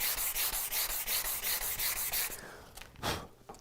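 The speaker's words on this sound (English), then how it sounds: "I'm just going to use a little bit of 400 grit." Wood is hand sanded with 400 grit sandpaper in rapid, even back-and-forth scratchy strokes close by, then the rhythm breaks off into a few looser rubs and a soft thump.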